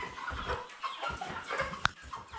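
Twenty-day-old broiler chickens in a poultry house make a dense, steady murmur of clucking and chirping throughout, with one sharp click near the end.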